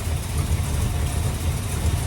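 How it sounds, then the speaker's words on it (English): A 1962 Chrysler New Yorker engine idling while not fully warmed up, a steady low rumbling putter heard alone at moderate level. "even though she's idling a little bit better right now, she's still not fully warmed up yet"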